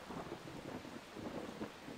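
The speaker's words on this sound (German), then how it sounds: "Ach, das ist wegen Gewitter und so." A thunderstorm with steady rain in the video game Far Cry 3: a continuous wash of rainfall and low rumbling thunder, no voices.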